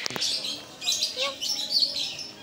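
Birds in an aviary at a resort in Ciawi, Bogor, chirp and tweet in bright, rapid bursts, several calls overlapping at close range with a steady chatter throughout.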